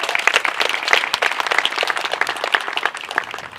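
An audience at a live-streamed event claps for the Eagles, a dense burst of applause that holds steady and loud from start to finish with no talking over it.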